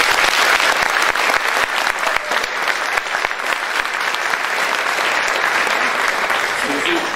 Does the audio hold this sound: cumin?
no